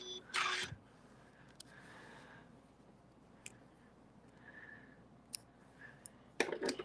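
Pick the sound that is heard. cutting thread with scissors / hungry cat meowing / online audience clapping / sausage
cutting thread with scissors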